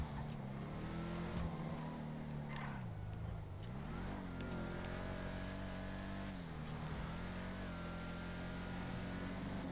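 A fully upgraded car with maxed motor, transmission and brakes revs in a PS4 racing game, its engine drone steady and continuous, dipping and climbing in pitch as it shifts and accelerates, at a fairly low level.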